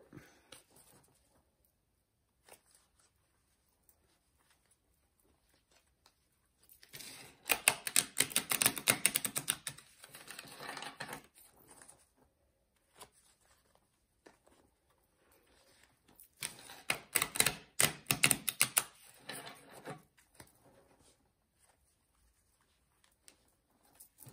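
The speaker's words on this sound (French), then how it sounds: "Je mélange mes cartes." Tarot cards being shuffled by hand, heard as two separate bursts of quick, papery riffling and flicking, close and fairly soft, with near silence before, between and after.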